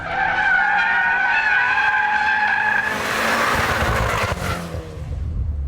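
A VW Golf R drifts with loud, sustained tire squeal: steady howling tones at first, then rougher broadband skidding with engine noise underneath, close and continuous throughout.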